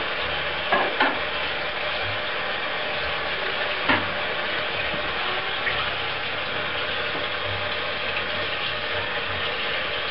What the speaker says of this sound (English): Rinse the tamper clean.